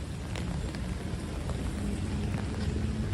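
Rain falls on a New York City street near Central Park, a continuous wide hiss with occasional faint drips and a low rumble of city background underneath, no one speaking.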